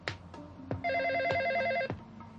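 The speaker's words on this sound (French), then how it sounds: "Tu n'entends pas la sonnerie?" A telephone rings with a rapid trilling bell tone in a short burst, mixed in among scattered thumps and clicks in an indoor scene from an animated series.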